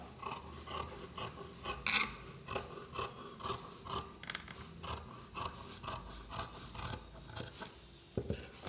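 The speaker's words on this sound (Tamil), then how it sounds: "அடுத்து வரைஞ்ச 1/4 இன்ச்சில் தான் நான் இப்போ ஃபேப்ரிக் கேன்வாஸ் கட் பண்ணிகிட்ருக்கேன்." Scissors snip through fabric canvas for a high-neck blouse in a quick, close run of about twenty crisp crunching cuts, evenly spaced, fairly quiet with no speech.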